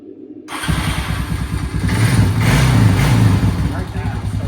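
A Honda Rancher 350 ATV engine kicks on after a brief silence and settles into a loud, close, chugging idle that rises slightly in the middle, with a person talking over it.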